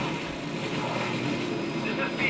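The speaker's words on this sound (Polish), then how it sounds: "helikopter już nadleciał" Helicopter arriving in the video game Metal Gear Solid V: The Phantom Pain, a steady broadband rotor and engine roar that holds through the clip while someone talks over it.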